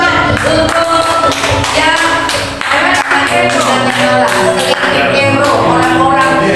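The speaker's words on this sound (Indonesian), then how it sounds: "Ayo kita berikan tepuk tangan untuk" A church congregation at a praise and worship service claps together in a loud, steady rhythm over music, with strong beats throughout.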